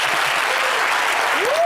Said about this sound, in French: merci d'applaudir Bemix.